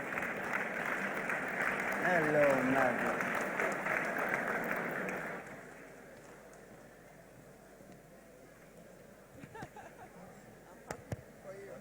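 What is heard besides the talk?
audience applause as award winner walks on stage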